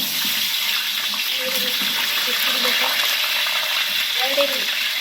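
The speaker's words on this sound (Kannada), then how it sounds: "ಎಣ್ಣೆ ಕಾದಾದ್ಮೇಲೆ ಈರುಳ್ಳಿ ಹಾಕ್ತಾ ಇದ್ದೀವಿ" Onions frying in hot oil: a loud, steady, close sizzle that holds for the whole stretch, with a few soft stirring sounds in the pan.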